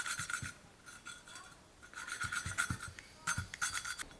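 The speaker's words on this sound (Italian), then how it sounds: "Quindi valvola lubrificata, la inseriamo all'interno della sua sede, in questo modo, e iniziamo a smerigliare." An engine valve is lapped into its seat in a GPX 155 cylinder head, giving quiet, close, rhythmic rasping and grinding strokes in short bursts with brief pauses between them.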